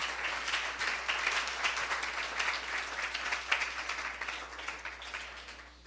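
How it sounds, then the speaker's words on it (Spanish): A church congregation applauds for about six seconds, the clapping dense and steady before tapering off, with no voices over it. "Dar un aplauso al Rey si puede, iglesia."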